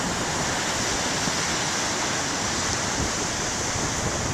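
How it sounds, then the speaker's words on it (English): Big ocean waves thunder in a constant, roaring wash of surf, loud and unbroken with no distinct breaks or voices. "Love the thundering sound of the waves."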